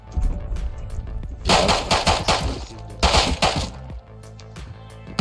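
Pistol gunfire in the game Rust, loud bursts of rapid cracking shots in two clusters close by, with low rumble and quieter scattered pops between them and no talking.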